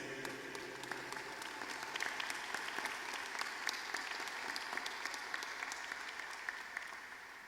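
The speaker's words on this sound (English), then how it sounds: "Please join me in a round of applause to thank Paul and this extraordinary group of individuals" Sustained audience applause at a New College spring convocation ceremony, a broad field of many hands clapping in a large space, steady and even from start to finish.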